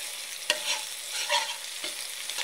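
Chopped papaya with egg and spring onion frying in a pan, with a steady sizzle and a few sharp scrapes and clatters of a spatula stirring close up.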